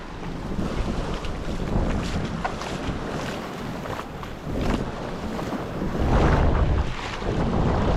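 Rough open water off Tanauan with heavy wind buffeting the microphone, big waves churning and surging around a moving boat, loud and continuous.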